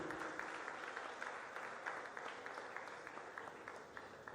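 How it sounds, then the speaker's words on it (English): An audience at a regional townhall meeting applauds, a dense, steady clapping from many hands that stays fairly even and then slowly fades toward the end, with no talking. "With a round of applause, let's welcome the Honorable Fatima Abubakar, our very own Minister for Information."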